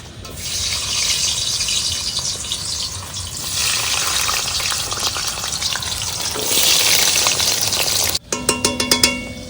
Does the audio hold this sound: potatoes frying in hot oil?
yes